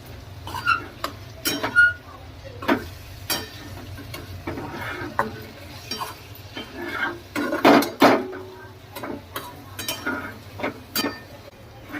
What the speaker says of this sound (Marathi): हलवून घ्यायचं आता मस्त त्याची सगळं.